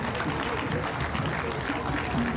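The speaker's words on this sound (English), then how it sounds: "Round of applause for the Aurora Turner Gymnastics." Parade crowd applauding a passing Aurora Turner gymnastics group at a Memorial Day parade, a steady dense clatter of clapping from many people outdoors, moderately loud throughout with a busy street wash underneath.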